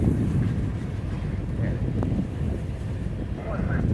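Outdoors in a snow squall by a railway line, wind buffets the microphone with a steady, loud low rumble that runs through the whole stretch, with no talking.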